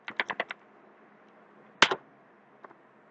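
A short burst of computer keyboard typing while a network service restart command is entered, with five quick clicks, then a louder double keystroke like the Enter key, and a faint pair of taps near the end.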